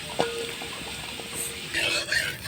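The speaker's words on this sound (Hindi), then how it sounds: "आलू को भी हम थोड़ा सा हल्का फ्राई कर लेंगे" Potatoes with turmeric and salt fry lightly in oil in a pan, making a continuous close sizzle with brief stirring scrapes. A voice is faintly present.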